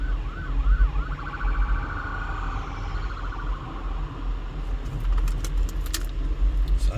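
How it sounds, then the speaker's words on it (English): An ambulance siren passes through backed-up traffic near Maryland Parkway in Las Vegas, first a fast yelp, then a slower wail that fades, over a steady low road rumble, with brief clicks near the end. "here comes the ambulance"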